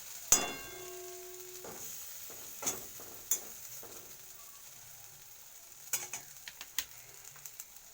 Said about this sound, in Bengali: সময়ের জন্য একটু মশলাটাকে কষিয়ে নেব